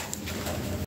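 Pigeons kept for breeding give a brief, soft, low coo close by, a muffled murmur under faint background noise lasting under a second.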